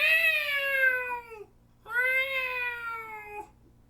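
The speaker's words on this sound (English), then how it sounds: "she hears a cat crying out from the bushes like it's in pain" Two drawn-out, wavering cat meows, close and clear, separated by a short pause, each sliding downward in pitch with a strained, plaintive quality.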